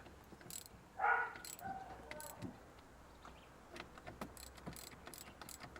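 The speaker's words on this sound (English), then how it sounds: "Just tweak it up. I say these bolts are quite long. They take a bit of doing." A hand wrench tightens long bolts on a Land Rover Defender windscreen bracket, making faint, intermittent ratcheting clicks and small metallic ticks against a quiet background.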